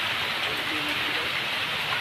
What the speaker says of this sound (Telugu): వర్షం వచ్చేస్తుంది ఫ్రెండ్స్ ఇక్కడ.